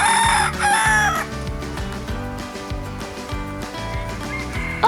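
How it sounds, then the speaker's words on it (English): A rooster crows loudly and close by, a drawn-out cock-a-doodle-doo with hens clucking in rhythm underneath, then the clucking carries on for several seconds. "A rooster is a boy chicken."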